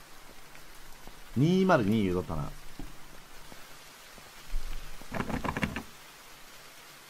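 Steady rain falls in a horror video game set in a bathhouse, a soft, continuous hiss beneath intermittent talking.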